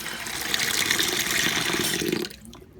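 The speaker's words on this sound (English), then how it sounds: "Let me just put some hot water in it." Hot water pours from a tap into a cooking pot in a steady, splashing gush that runs for about two seconds, then cuts off abruptly, leaving near silence.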